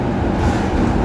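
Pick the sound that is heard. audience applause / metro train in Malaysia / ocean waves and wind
metro train in Malaysia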